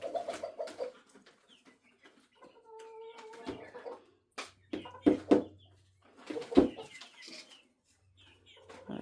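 A broody hen clucks in a shed in short, close bursts of clucks and throaty calls, separated by brief quiet gaps.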